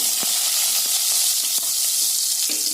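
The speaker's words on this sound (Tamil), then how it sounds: "கடலைப்பருப்பு உளுந்தம்பருப்பு நல்லா இப்படி வதக்கி விடுங்க" Mustard seeds, chana dal and urad dal sauté in hot oil in a pan for a spinach or bean poriyal, a loud steady hiss broken by several sharp crackling pops and scrapes of stirring.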